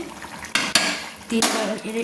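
Mutton stirred in a pot with added water, two loud scraping clatters of a spoon against metal with wet sloshing between, close and brief.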